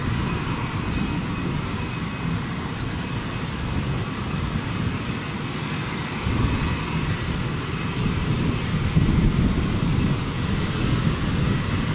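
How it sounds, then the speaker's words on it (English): A Jetstar A320 airliner departs from Gold Coast Airport, its engines a steady, heavy roar that holds loud throughout and swells slightly near the end, with no talking. "Let's get to our first departure of this morning, being this Jetstar A320."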